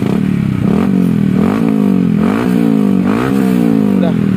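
A Yamaha WR motorcycle with an SKR racing exhaust revs loudly and steadily close by, its engine pitch climbing and dropping in several repeated surges, with a rough rattling edge to the exhaust note.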